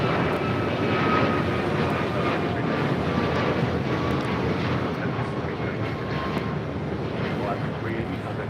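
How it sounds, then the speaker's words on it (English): An Alaska Airlines Boeing 737 MAX 9 takes off, a steady, loud roar of jet engines sustained throughout, with wind noise against the microphone. "This is Alaska Airlines 380 taking off to Fort Lauderdale on a MAX 9"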